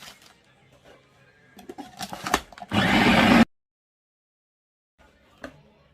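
A food processor whirs loudly in one short sustained burst, chopping garlic cloves with a pinch of salt, then stops abruptly into silence, with brief clatter before and a faint knock afterward.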